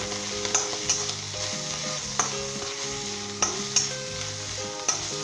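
Boiled shredded chicken is stir-fried with capsicum in a pan, giving a continuous sizzle with regular sharp scraping strokes of the spatula against the metal, close and clear, with no voices.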